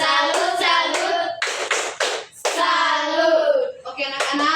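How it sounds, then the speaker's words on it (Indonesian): A group of primary-school children performs the 'tepuk salut' cheer in a classroom, chanting together in bright voices while several quick bursts of clapping break in close by. "Kita tepuk salut untuk Kakak Ryan"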